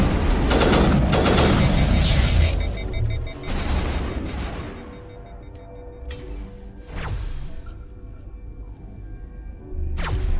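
Sci-fi weapon gunfire during a firefight in Mass Effect, with sustained rapid bursts up front, then a lull broken by several sharp separate shots and a final renewed burst, loud and close with no talk over it.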